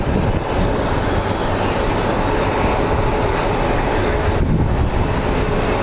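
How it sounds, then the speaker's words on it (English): A McDonnell Douglas MD-11 airliner on approach into Phoenix Sky Harbor from Oakland, a loud, steady, broad jet roar that holds close and constant throughout with no voices. "So that is a McDonnell Douglas MD-11 coming in from Oakland"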